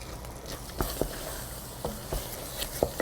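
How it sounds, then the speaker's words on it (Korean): Keema curry with curry powder and salt is stirred in a pan, a spatula scraping the bottom in soft irregular strokes over a faint sizzle, with no talk. "계속 바닥을 긁듯이 저어주시고요"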